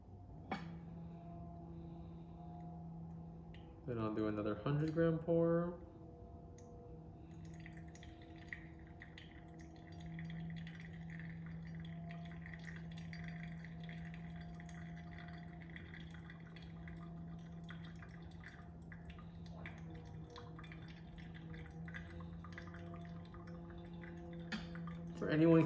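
Water poured over 16 grams of medium-fine, Comandante-ground coffee for a 100-gram pour-over pour: a soft, steady trickle over a constant low hum, with one louder splashing burst early on.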